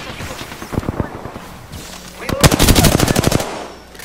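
Apex Legends gunfire: a few separate loud shots early on, then a fast, tight automatic burst of close, sharp rounds lasting about a second before fading into softer background noise.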